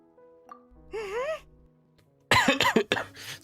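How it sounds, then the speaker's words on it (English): A person coughs several times in a quick burst near the end, loud and close, after a quieter stretch with a faint breathy vocal sound. "Excuse me, I had to cough there."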